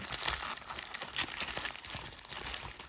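Trading cards riffled and shuffled by hand, a close, fairly quiet run of crisp papery flicks and soft slaps repeating in quick bursts.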